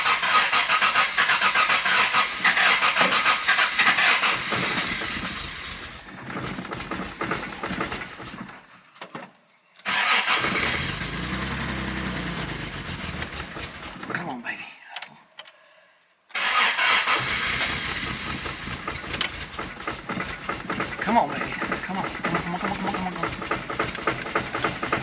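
A carbureted 2015 GMC Denali engine cranks and starts on a little choke, running loudly, cutting out twice, then catching again and idling roughly up close.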